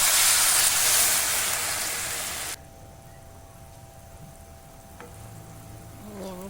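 Garlic and mixed chili sauce hitting a hot pan for Thai-style fish, a loud bright sizzle that fades over a couple of seconds, then cuts to a quieter simmering hiss with faint clinks.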